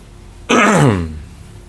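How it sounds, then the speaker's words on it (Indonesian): A single loud, harsh cough-like burst from a nearby person, lasting about half a second and fading into quiet. "Cuma batuk aku kan."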